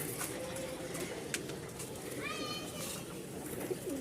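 Rajshahi Giribaz pigeons coo softly in a Dhaka loft, low repeated rolling calls under a busy background with a brief chirpy bird call midway.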